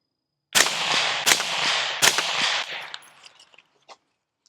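Three suppressed gunshots on a Revival Defense low-profile mount, sharp loud reports spaced under a second apart, each trailing into echo before a few faint clicks.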